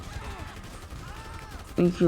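In the video game GTA V, a short, loud burst of gunfire breaks out near the end after a stretch of quieter in-game background sound.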